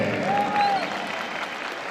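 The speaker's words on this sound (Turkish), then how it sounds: "Huzurlarınızda alkışlıyoruz kendisini." Applause from an audience at a university graduation ceremony in Van, Turkey rises briefly and then fades, moderately loud and diffuse, with a hint of a voice at the start.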